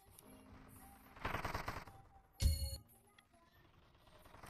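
Machine gun turret in a tower defense video game firing bursts: a rapid rattling volley near the start of the middle, then a sharper louder burst, over quiet game background.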